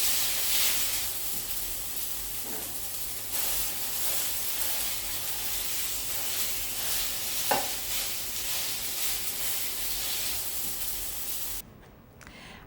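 Mexican ranch chorizo frying in a pan, giving a steady close sizzle and hiss with occasional stirring scrapes, running continuously at moderate level before cutting off near the end.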